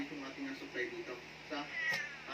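A pet cat meows a few times at moderate distance, with people talking over it in a quiet home setting.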